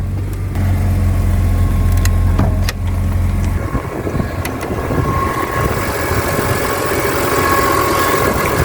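BMW M3 3.2 straight-six with running issues, heard up close with the bonnet open, a deep steady idle that shifts to a rougher, noisier running tone partway through, a few faint clicks, no talk.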